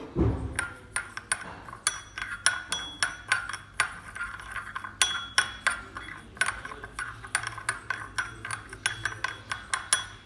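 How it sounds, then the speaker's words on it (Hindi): Dry cumin seeds and mustard seeds being stirred together in a bowl, giving a steady run of light clinks and rattling taps close by, with no talking. "अब हम इन दोनों को मिक्स कर देंगे"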